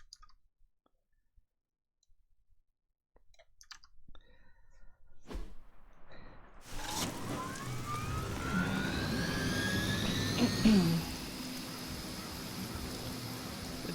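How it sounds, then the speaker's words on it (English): A Hydra helicopter in the video game Marvel's Midnight Suns spins up after clicks and a thump, its engine growing into a loud, steady whine and rotor roar with a rising turbine tone that continues to the end. "Disable the Hydra helicopter before it can depart."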